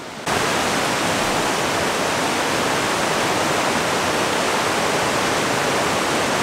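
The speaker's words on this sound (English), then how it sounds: "the flow of the waterfalls has reduced considerably" Waterfall with reduced flow tumbling over rocks, a steady, loud broadband rush that starts abruptly and continues unbroken and close, with no voices.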